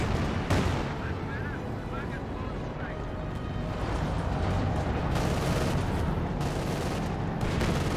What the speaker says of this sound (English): And we've got a rocket barrage there.